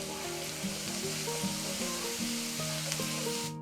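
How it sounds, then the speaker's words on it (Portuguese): Chopped scallions fry in oil in a pan while fried rice is being made, a constant close sizzle with light stirring and soft music playing underneath. "Deixe fritar um pouco, em torno de 1 minuto."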